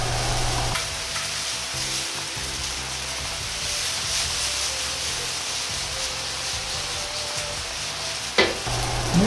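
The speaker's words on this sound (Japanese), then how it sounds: "鍋を回して焼きそばを滑らせながら焼いていきます" Spicy minced meat and cabbage yakisoba noodles stir-frying in a pan, a steady close sizzle with scraping as the pan is worked, continuous and fairly loud, ending in a brief clatter.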